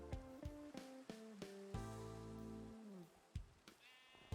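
Sheep bleating in a stream game scene, a series of short, clear bleats followed by one long drawn-out cry, under rhythmic clicks and background music, no talking.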